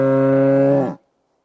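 A bull from Kolhapur lets out a single loud, close, sustained moo lasting under a second, cutting off abruptly into silence.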